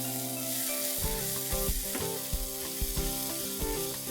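Spices stirred into tomatoes frying in a pan for palak paneer, after coriander seed powder and garam masala go in: a steady sizzle with repeated scraping knocks of the spoon against the pan, close and fairly loud, with no talking.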